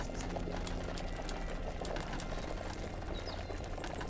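Potion liquid bubbling at a steady boil during alchemy brewing in Kingdom Come: Deliverance, a continuous close, dense simmer with soft popping bubbles and no voices.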